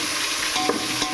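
Mutton hitting frying onions for mutton biryani gives a short burst of dense, even sizzling hiss with a faint stir, close up and moderately loud, lasting only about a second.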